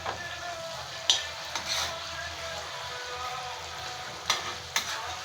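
Prawns frying in a pan give a constant soft sizzle, broken by a handful of clacks and scrapes as pieces are turned over, heard close with no one speaking.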